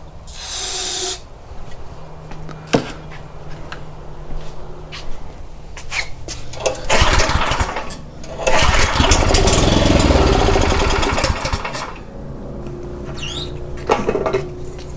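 A Troy-Bilt rototiller's small gasoline engine with a suspected carburetor problem, heard through pull-start attempts that catch and run roughly for a few seconds at a time, loud and close, with pauses between tries.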